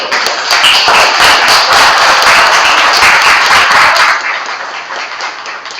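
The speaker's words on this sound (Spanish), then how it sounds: "Sí, pero un aplauso." An audience at an educational seminar class applauds with dense, close clapping that runs for about four seconds and then stops abruptly.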